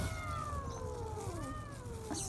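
A stray cat gives a drawn-out meow from close by, a single wavering cry that slides downward, over faint background hum.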